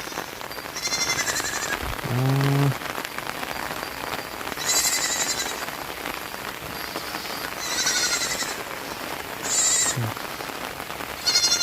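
Steady rain falls and patters on surfaces in a continuous hiss, while a few sheep or goat bleats ring out now and then over the downpour, with no talk.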